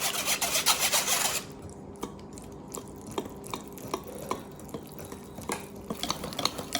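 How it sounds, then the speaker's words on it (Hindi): Pancake batter is stirred into the dry ingredients in a bowl, giving a steady scraping, rasping rub that is loud at first, then turns into softer, regular strokes with small clinks. "इसको अच्छी तरह से जब मिक्स हो गया तो आपने इसे ड्राई इंग्रेडिएंट्स जो है उसमें मिक्स कर देना"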